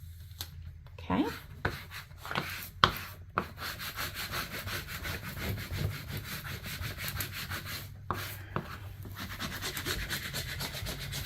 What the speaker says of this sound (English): And when you burnish, you're just making it a little bit, giving it a little bit of heat so that way it adheres.